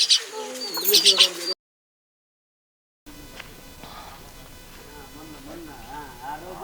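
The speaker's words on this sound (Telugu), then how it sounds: "ఈ గువ్వ పిట్ట" A captive dove held by villagers gives soft low cooing, preceded by sharper bird chirps, with people talking nearby outdoors.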